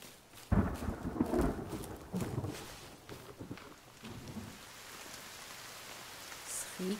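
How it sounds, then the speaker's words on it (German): Steady rain in the video game The Forest patters and hisses, with a few heavier thuds and rumbles early on before settling into an even, soft downpour. "Regnet."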